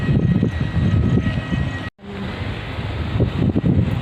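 An airplane rumbles near an airport, a loud, heavy engine roar with a low throbbing texture and a faint high whine, cut off by a brief dropout midway before the roar resumes.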